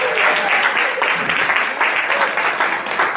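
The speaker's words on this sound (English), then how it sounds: "let's give everybody a big round of applause" Applause for everyone at an awards roast and gala, a full, loud burst of clapping from a crowd that surges in uneven waves and continues across the whole stretch.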